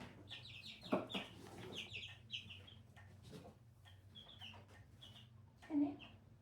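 Chickens clucking indoors in a chick brooder coop, a few close soft clucks and chirpy calls at intervals, with someone talking quietly between them.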